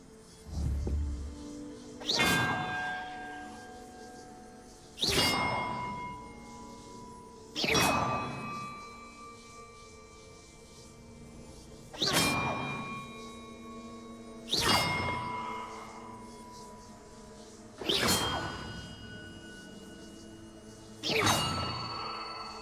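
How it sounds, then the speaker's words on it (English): Bells struck one after another in a puzzle in Hogwarts Legacy, each a loud metallic clang with a long ringing decay, about seven strikes spaced a few seconds apart, alone without talk. "the map contains clues about the order I'm supposed to ring the bells in"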